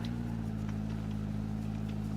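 A McLaren P1 engine in Roblox Vehicle Simulator drones at a steady idle, a low constant hum with no change in pitch and no voices.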